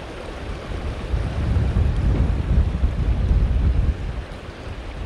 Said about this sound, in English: So if we lose a little bit of sound quality, I do apologize. Super windy up here.